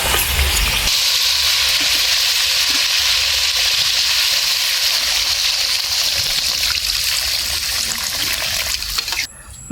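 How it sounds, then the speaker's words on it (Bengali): Water poured into village-style chicken frying in a pot for curry, a loud, steady rush of liquid over hissing oil that runs close and unbroken for nearly ten seconds, then stops abruptly. "তখন আমরা ঝোলের জন্য জল দিয়ে দেবো।"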